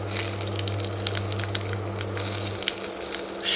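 Bay leaf, dried red chillies and whole cumin sizzle steadily in hot oil, a continuous crackling hiss with small pops, alone and fairly close.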